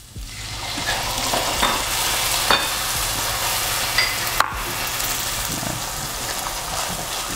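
Tomato sauce for butter chicken sizzles steadily in a hot pan while a utensil stirs it, with occasional light scrapes and clinks over a constant frying hiss, close and loud throughout.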